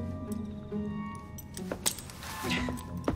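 Keys jingle and clink as they are handed over in Assassin's Creed Syndicate, a short bright metallic rattle in a few quick bursts over a faint background hum.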